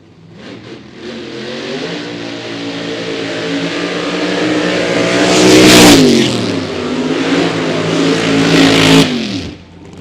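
A Gen 4 Firebird Funny Car race car revving at a raceway test session, a loud, close, sustained engine roar that climbs in pitch, dips, surges again and then cuts off.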